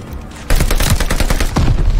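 Rapid gunfire in the video game Call of Duty Vanguard erupts after half a second of quiet, with dense, loud bursts of shots that continue to the end.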